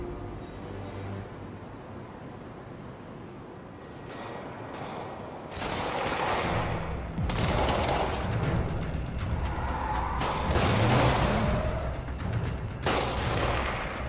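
Gunfire in Marvel's Spider-Man during a police fight with an armored vehicle under attack in the Garment District, heard as a loud, dense run of bursts through the second half over a steady low rumble.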